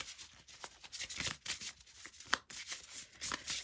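Oracle and tarot cards being shuffled by hand, a run of soft riffling bursts and slaps in an irregular rhythm, close and fairly quiet, with one sharper snap midway and no talk.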